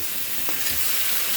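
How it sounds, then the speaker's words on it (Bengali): Fried boreli fish being stirred into sizzling poppy-seed masala, making a brief, dense, close hiss with a soft scrape of the spoon partway through. "মশলাটা কষানো হয়ে গেছে, এখন মাছ ভাজাটা দিয়ে দিচ্ছি। ভালো করে মশলার সঙ্গে মিশিয়ে নিচ্ছি।"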